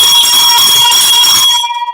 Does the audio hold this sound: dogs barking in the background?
no